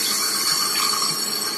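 A tap runs steadily at a sink while a face mask is washed off, giving a short, even hiss of flowing water with no voices.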